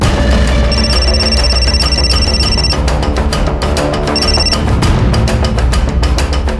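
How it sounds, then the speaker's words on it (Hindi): A telephone rings during a call, a repeated electronic trill in regular bursts with short gaps, loud and close, over a steady background hum. "आप तो बस मौसा जी को फोन लगा रही हो ना।"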